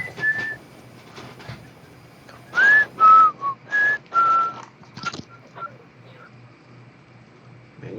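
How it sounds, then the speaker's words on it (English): People whistle several short tonal notes, a few clear rising and sliding pitches in a cluster, fairly close and loud, with brief breathy sounds in between. "Man, you guys whistle like ass."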